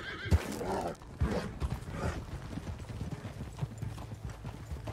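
A horse in the video game Red Dead Redemption 2 whinnies loudly, and its hooves clip-clop steadily in the foreground over a dense game soundscape.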